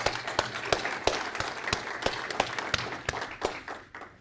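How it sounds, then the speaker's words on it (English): Conference audience at a green display technology expo gives a round of applause: continuous clapping with distinct sharp claps standing out, steady and moderately loud before gradually thinning. "I want to give Chris a round of applause"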